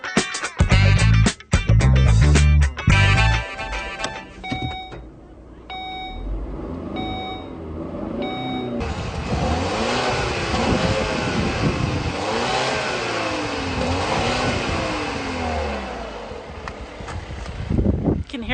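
A 2015 Volvo XC60 T6 with a 2.0-liter turbocharged engine revs up in repeated rising and falling sweeps, loud and close, after a burst of beeping and clatter at the start.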